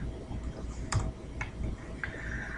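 A few scattered computer keyboard keystrokes, clicking sparsely and faintly over a low steady room hum, with no one talking.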